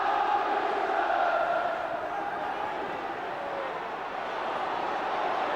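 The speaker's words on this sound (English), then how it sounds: "And the crowd respond." Football crowd at a 1994 Tottenham versus Sheffield United match roars steadily after the Tottenham equaliser, a broad, sustained wash of cheering that swells and dips slightly, with no voices standing out.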